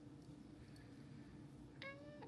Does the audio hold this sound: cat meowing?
yes